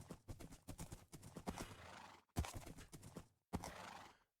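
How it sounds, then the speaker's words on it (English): A Minecraft horse whinnies and gallops in quick clip-clop bursts, hoofbeats loud and close, with brief pauses between runs and no talking. "I'll be damned if you ain't one of the fastest horses I think I've ever had in Minecraft."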